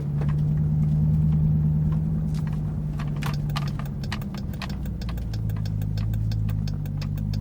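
Dodge Durango Hellcat exhaust rumbling steadily at low pitch while driving, heard from inside the cabin, with a deep droning tone that shifts slightly near the end and scattered light ticks and clicks over it.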